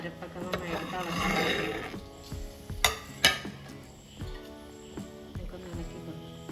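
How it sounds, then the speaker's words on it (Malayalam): A coconut milk prawn curry is stirred in a pot, a soft bubbling simmer broken by a few sharp spoon clinks against the metal rim. No speech is heard over it. "നമുക്കൊന്ന് ഇളക്കി കൊടുക്കാം"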